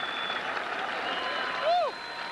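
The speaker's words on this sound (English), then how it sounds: "Give him a round of applause." Crowd applause at a Bassmaster bass fishing weigh-in on Lake Champlain, a steady spread of clapping throughout with a brief louder swell near the end, blended with an announcer's voice and whooping.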